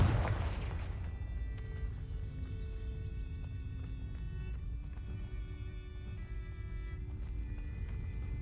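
A Confringo explosive spell in Hogwarts Legacy, one sharp burst that opens the sound, then a sustained rumbling tail with ringing tonal game sounds layered over it, with no voices.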